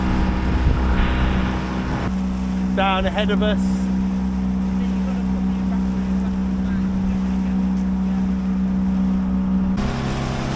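Motor boat cruising on the River Odet, its engine droning steadily at close range with a constant hum and wind noise, while someone talks briefly over it.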